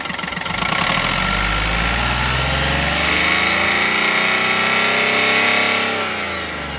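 A Chevrolet Beat diesel car engine idling nearby with a low, steady knocking rumble that stays even throughout, no talking.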